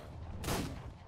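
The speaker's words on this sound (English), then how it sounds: "He's sniping. Shooting." A single sharp sniper rifle shot in the online survival game ARK, a loud near crack with a short tail, alone without talk.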